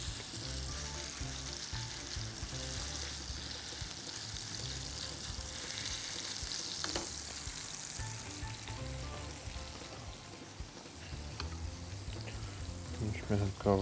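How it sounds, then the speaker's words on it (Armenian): Turkey fillet frying in a pan gives a steady, fairly loud sizzle throughout, with a few clinks and stirring noises near the end. "Ինչ մեր հնկավը տապակվի"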